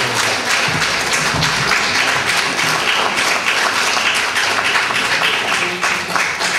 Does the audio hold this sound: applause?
yes